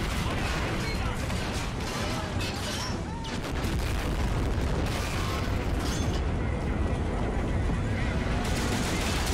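Gunfire in the Army Men Strike war game: dense, continuous fusillades of rifle and machine-gun shots mix with booms in a loud, steady battle din that barely lets up, with no voices.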